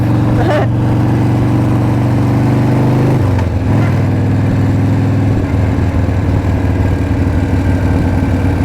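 A 1987 Harley-Davidson Heritage FLST motorcycle engine runs loud and close, a steady low idle rumble with a couple of shifts in pitch as the rider gets going.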